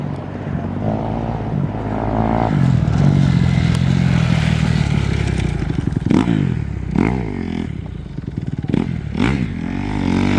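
Dirt bikes ride through muddy trails at Hard Rock Offroad Park in Florida. A steady motorcycle drone builds, then gives way to several sharp throttle blips and revving bursts near the end, fairly close.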